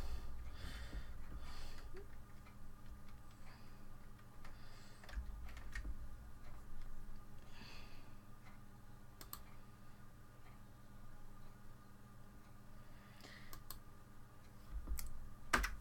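A computer keyboard clicks faintly and quietly, with scattered, irregular keystrokes over a low background hum and no speech.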